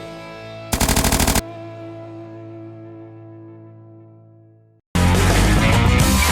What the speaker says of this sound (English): something as large as our 1876 Gatling gun